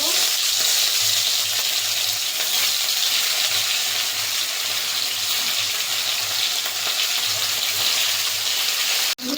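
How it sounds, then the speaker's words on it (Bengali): Catla fish pieces rubbed with salt and turmeric fry in hot mustard oil, making a loud, continuous, close sizzle with a faint low hum beneath that holds nearly unchanged throughout. "নুন হলুদ মাছের পিসগুলো এবার ভেজে নেব"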